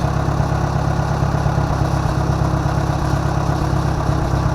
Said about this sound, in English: You gotta flip this switch on to have power to them for the motor to run, the pump.